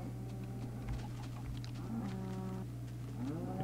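Cattle lowing in a crafting video game, several drawn-out moos rising over a steady droning background hum, with a few faint clip-clop footsteps mixed in.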